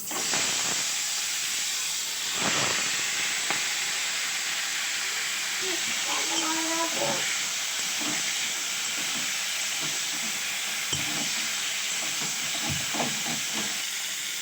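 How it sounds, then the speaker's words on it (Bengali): Singi fish fries in oil with whole cumin, dried chillies and cardamom, making a loud, even hiss that runs the whole time, with brief scrapes and a moment of quiet talk. "মাছটা হালকা ভাজা হয়ে গেছে।"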